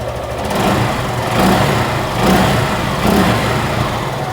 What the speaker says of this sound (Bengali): বাইকটা কিন্তু স্টার্ট করা হয়েছে আর আপনারা সাউন্ডটা শুনতে পাচ্ছেন আশা করি।